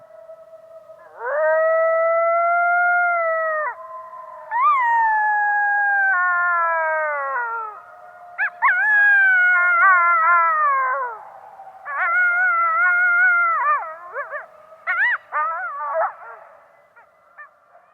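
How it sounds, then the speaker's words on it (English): A chorus of coyotes howls across a winter valley, long rising and falling wails layered with yips in several overlapping bursts, echoing at a moderate distance with no talk. "I was able to witnessed that beautiful coyote chorus that was sort of echoing all around the valley."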